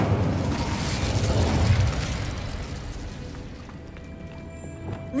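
Incendio fire spell cast in Hogwarts Legacy, a loud whooshing, roaring burst that fades slowly over several seconds into a quieter tail with faint mechanical clicks.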